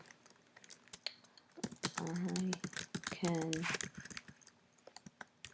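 Rapid, uneven keyboard clicks of someone typing at a computer, close and fairly quiet, while a person speaks a few words partway through.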